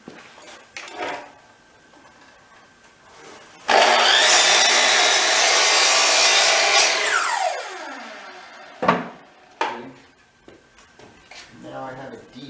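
A power saw trims a piece of wood for a floating table top, cutting in one loud, harsh burst of about three seconds and then winding down, with a person talking and some clatter before and after.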